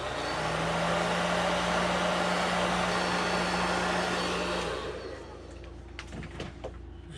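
A hair-dryer-like heat gun blows steadily while heat setting paint on a jointed glide bait, a loud continuous whoosh with a low hum that cuts off partway, followed by light clicks and handling noises.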